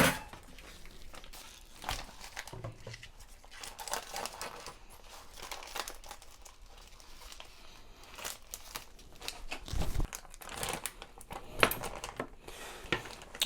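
Plastic sous vide bag holding a frozen pork tenderloin crinkles and tears as it is cut open, a series of close, soft rustling and ripping sounds with no talking.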